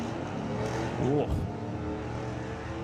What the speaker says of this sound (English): you hear engine note change for Tom.